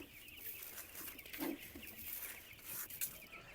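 Faint cheeping and soft clucking from a group of broiler chicks, steady in the background with a few slightly louder chirps.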